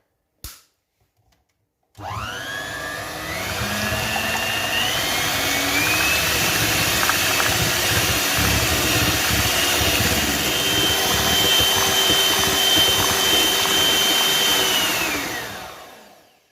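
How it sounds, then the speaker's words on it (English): Electric mixer whisking an ice cream mixture on high speed, switching on with a rising whine and then running as a loud, steady whir for about fourteen seconds before spinning down, with no voices. "So we're going to whisk it on high speed for about 4 minutes to try and achieve that light, fluffy texture."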